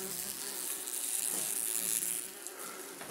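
German wasps at their nest give off a faint, steady insect buzz throughout, soft and continuous with no other sounds.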